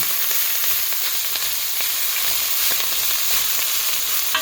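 Kale and garlic frying in a hot pan, a loud steady sizzle with crackling bursts and occasional stirring scrapes, continuous and close with no talking.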